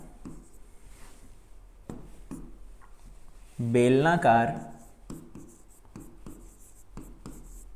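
Writing strokes on a board during a physics lesson on Gauss's law, a steady run of faint scratches and taps with a short burst of a man's speech in the middle.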